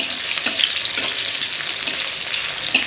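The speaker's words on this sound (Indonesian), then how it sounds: "Kita goreng sebentar aja guys, jangan terlalu matang, nanti gosong." Chili, garlic and other sambal korek ingredients sizzle in a hot pan while being stirred, giving a steady, close frying crackle with occasional scraping clicks and no talking.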